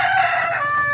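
A rooster crows once, loud and near, a drawn-out strained call that holds for about a second.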